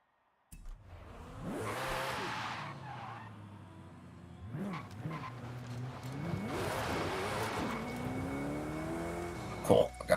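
A 2013 Mercedes E63 AMG in Forza Horizon 5 revs hard through rising and falling engine sweeps, with tires squealing and skidding between surges, the car loud and close throughout.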